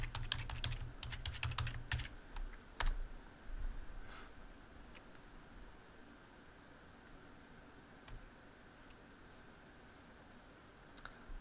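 Someone types a username and password on a computer keyboard: a burst of quick, close key clicks, a few scattered taps, then near silence over faint background hiss.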